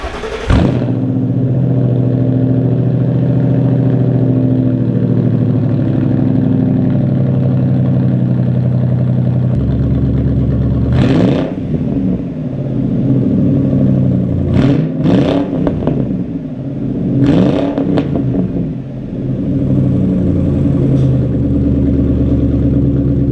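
A Ford Crown Victoria fitted with a Hilborn ram air scoop cold-starts inside a barn and idles with a loud, deep, steady rumble, broken by several sharp revs in quick succession before it settles back to idle.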